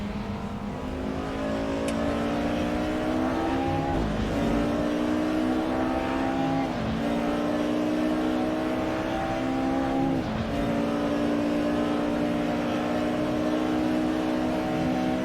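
Race cars roar around the Nurburgring in a racing video game, one engine note climbing steadily then dropping sharply at each gear change, repeated across a long, loud, continuous run.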